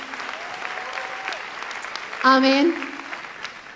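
Soft, steady clapping from a church congregation runs throughout, with a voice speaking over it and a brief louder vocal moment in the middle.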